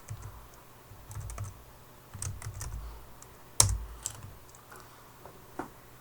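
Scattered keystrokes tap on a computer keyboard while a layer name is entered in Flash animation software, soft and near, with a louder clack near the middle and a quiet room around them.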